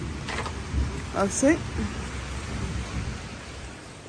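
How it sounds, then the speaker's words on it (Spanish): Rain falls steadily outdoors as a soft wash of noise while low rumbling thunder rolls in a few short bursts early on, with a brief spoken word. "un trueno a la vista"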